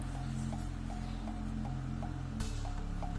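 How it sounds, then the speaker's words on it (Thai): An Antec Atom V550 550 W power supply fan runs at high speed under load, a steady whirring drone with an underlying hum and faint regular ticks, plus one brief knock, no talking. "พัดลม power supply รอบจัดจริงครับ ยิ่งโหลดเยอะก็ยิ่งเสียงดังนะครับ"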